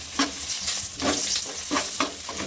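Chutney poured into hot oil tempered with asafoetida for Saurashtra-style bhungra bateta, giving a close, steady sizzle with stirring strokes that swell and fade in a loose rhythm, and no talking.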